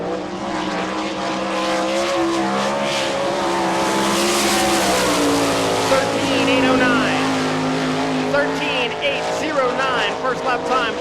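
A World of Outlaws sprint car runs a qualifying lap at Rossburg, Ohio, its engine a loud sustained roar that rises and falls in pitch as it circles, with an announcer talking over it.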